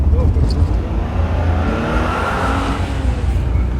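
Car driving on a road during a morning commute in Poland, with steady broadband engine and road noise throughout and people talking over it.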